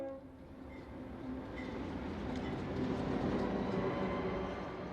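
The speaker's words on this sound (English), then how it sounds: "GE 9001, ex-MOP 1985 built C36-7, leads a family line's SD40 on a Sacramento stack train." A GE C36-7 diesel locomotive built in 1985 leads an SD40 on a stack train, a low rumble that swells gradually as the train approaches and rolls by, with no talk.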